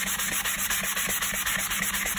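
Wood being sanded close by, a steady harsh rubbing hiss with a faint regular back-and-forth pulse, loud and continuous with no voices.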